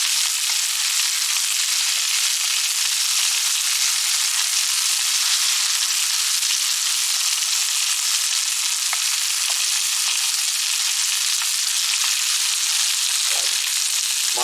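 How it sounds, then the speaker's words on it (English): Scotch fillet steaks sizzle in a frying pan, a loud, even, crackling hiss that runs unbroken throughout with no voices. "steaks still cooking away nicely"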